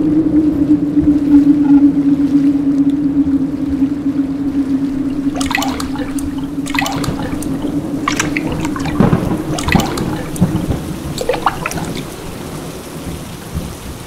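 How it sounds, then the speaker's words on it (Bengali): A cartoon storm over a river with a boat, carrying a continuous low rumbling drone of wind and rain with several rolling thunder cracks bursting through in the second half, loud and enveloping. "ঝড় শুরু হয়েছে।"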